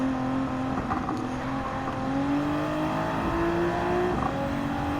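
Race car engine in Gran Turismo 7 revving high near peak RPM, a steady, loud whining drone that climbs gradually in pitch with a slight dip at the end, no talk over it.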